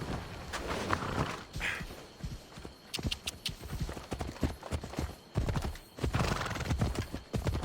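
Hooves clip-clop at a walking pace as horses are ridden in Assassin's Creed Odyssey, with a horse neighing amid the rhythmic hoofbeats and a brief voice.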